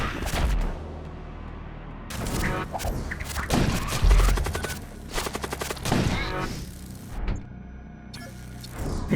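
Enemy ship guns firing in the space combat game Void War, rapid bursts of gunfire and heavy cannon blasts in several volleys, loud and close, with a machine-gun-like rattle in the middle.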